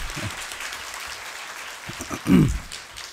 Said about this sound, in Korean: 박수로 먼저 해주시고요